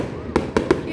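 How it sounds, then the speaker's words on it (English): Fireworks burst in three sharp, loud pops over about a second, standing out against a steady background rumble. "It's because the fireworks are pretty loud."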